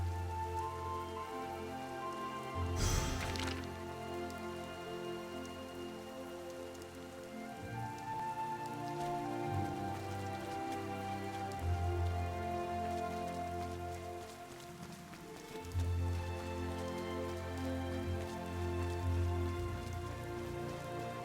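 Rain falls steadily in the video game Throne & Liberty, a soft continuous patter under ambient music, with one brief sharp burst early on.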